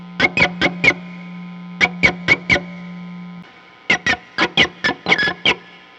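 An electric guitar plays quick clusters of short, bright, distorted squeaks in bursts of four or five, mimicking chirping birds, separated by brief pauses.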